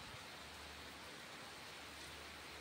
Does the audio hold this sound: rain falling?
yes